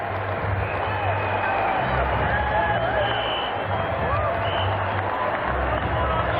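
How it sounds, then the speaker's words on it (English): Cricket crowd at Kingston giving a standing ovation during a Test match against West Indies, a dense continuous wash of applause and cheering at a steady level throughout. "A standing ovation here at Kingston."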